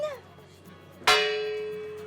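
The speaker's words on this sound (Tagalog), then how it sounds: "muling narinig ng mga taga La Union ang kampana" A single bell of San Pedro church in La Union, Philippines, strikes loudly, its bright metallic tone ringing out and slowly fading over a low background hum.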